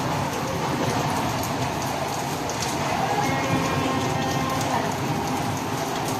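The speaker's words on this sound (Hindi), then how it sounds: "तेज़ बारिश हो रही है अभी।" Steady, heavy rain pours continuously, a dense wash of hiss with a dull low rumble underneath and no voices.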